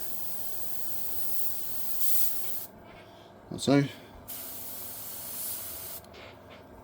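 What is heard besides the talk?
airbrush spraying paint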